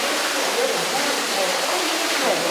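Underground waterfall deep inside the Azé caves, heard as a constant dense rushing roar of falling water, even and enveloping with no breaks or other distinct sounds.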